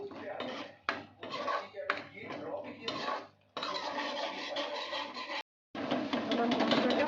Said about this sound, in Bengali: এবার আমি সর্ষে বাটাটা দিয়ে নাড়াচাড়া করে নেব